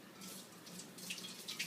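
Tap water running steadily onto wet hands at a kitchen sink while making granola bars, a soft continuous splashing hiss with small bursts of spatter, fairly quiet and without talk.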